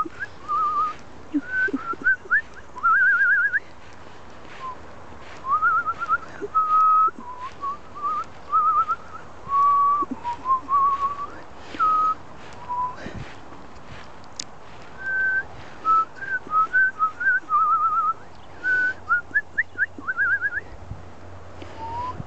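Near and clear, a person whistles at a pond to call birds, repeating short, trilling, rising and falling phrases separated by brief pauses.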